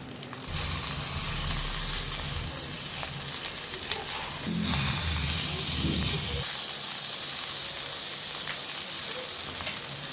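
Salmon fries in a pan with butter, giving a loud, continuous sizzle and hiss, with a brief lower thump near the start and sputtering that continues to the end.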